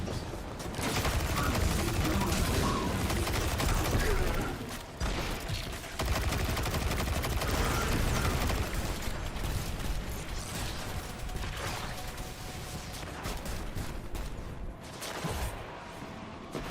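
Dense, rapid fusion rifle fire from Destiny 2 rattles on almost continuously, loud and close with a mechanical grinding texture, pausing briefly midway before resuming.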